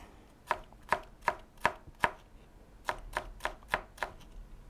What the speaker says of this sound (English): just hold them together and try to cut them into an even chop